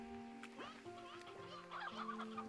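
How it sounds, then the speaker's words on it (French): Several chickens cluck and murmur softly at close range in a quiet setting, with short rising calls overlapping one another. "Eux, c'est des poules."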